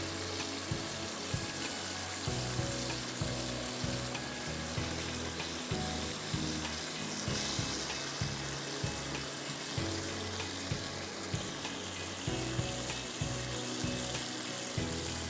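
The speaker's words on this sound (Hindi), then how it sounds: "इसको आपको भूनना अच्छी तरह है, टमाटर ताकि अच्छी तरह से भून जाए।" Tomatoes and masala fry in a karahi with a steady, dense sizzle that runs continuously, broken by faint regular stirring scrapes and no voices.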